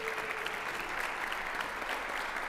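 A concert audience for a trombone ensemble gives sustained, even applause, a dense crowd of clapping hands at steady loudness throughout, no voices over it.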